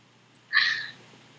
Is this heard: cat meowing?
yes